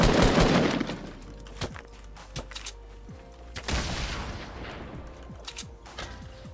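Bursts of gunfire in Fortnite Battle Royale, fired in several scattered volleys at moderate distance. Sharp cracks mix with a heavier impact early on, and a rattling spray follows about midway through.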